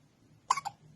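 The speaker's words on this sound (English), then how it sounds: "You got the hiccups again." A baby gives a single sharp hiccup with a quick follow-up catch, close and soft against a quiet room hum, and nobody speaks.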